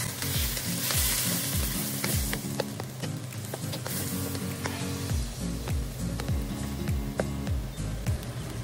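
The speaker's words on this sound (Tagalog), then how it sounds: "Haluin natin." Chicken stirred in a hot pan for a creamy Kapampangan chicken pastel, spoon scraping in repeated rhythmic strokes over a steady close sizzle of frying, no talking.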